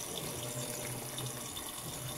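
Water pours steadily into a top-loading washing machine drum during its fill cycle, a constant rushing hiss with a low churning undertone, close and unbroken, with no speech.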